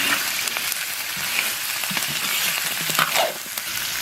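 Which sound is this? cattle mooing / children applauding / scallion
scallion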